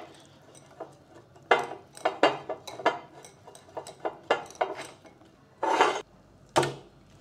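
A quarter cup of mustard oil dressing, made without salt, is whisked in a bowl, giving close, irregular clinks and scrapes of the utensil against the bowl with no talking.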